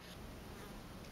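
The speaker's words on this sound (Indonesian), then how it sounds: "Oh, ada lalat lewat." Housefly flying past indoors, a faint steady buzzing drone lasting about a second, heard alone against quiet room noise.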